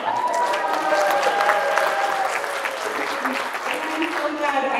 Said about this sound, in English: y'all can cheer.